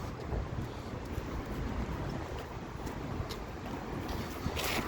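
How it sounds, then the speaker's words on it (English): Steady, rushing wind buffets the microphone during an outdoor walk, a continuous low roar with no speech over it. "oh, this wind, it's quite a refreshing feature of this walk"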